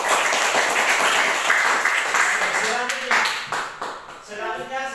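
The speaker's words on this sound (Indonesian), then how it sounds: "Oke, tepuk tangan." Classroom applause during an algebra lesson, a burst of clapping close by that thins out toward the end, with voices mixed in.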